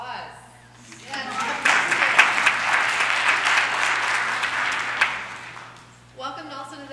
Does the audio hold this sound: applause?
yes